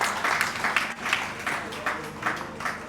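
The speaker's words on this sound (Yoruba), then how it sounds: "ẹ jẹ́ pàtẹ́wọ́ fún akápẹ́ ọba lẹ́ẹ̀kan sí ìjọba lọ" Audience applause for a Yoruba king's praise-singer at a traditional gathering, a steady wash of many hands clapping in several swelling waves, fairly close and continuous throughout.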